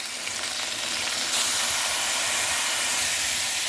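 Steady loud sizzling hiss of a hot pan deglazed with Marsala while cooking zuppa di pesce with crab, lobster and baccalà, swelling sharply partway through and continuing as an unbroken steamy roar.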